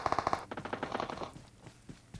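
Automatic gunfire in PUBG Mobile: a fast burst of about ten evenly spaced shots, followed by a few scattered, fainter pops as it dies away.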